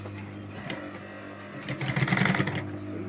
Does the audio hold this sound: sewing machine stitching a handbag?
yes